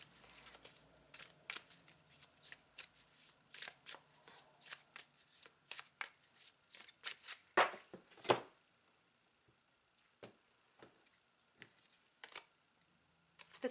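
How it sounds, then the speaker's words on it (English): Tarot cards are shuffled and then drawn, giving quick papery riffles and sharp flicks in uneven bursts close to the listener. The sound grows denser through the middle, then thins into sparse single snaps, with no talking. "I'm going to grab a final card to close your reading."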